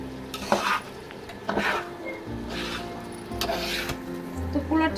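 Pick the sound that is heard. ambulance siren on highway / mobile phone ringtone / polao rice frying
polao rice frying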